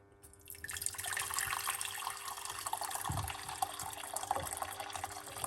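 Hot water from a kettle pours steadily into a medium-sized pot on a cooker, a soft splashing rush that rises after a quiet start and runs on with a few small knocks.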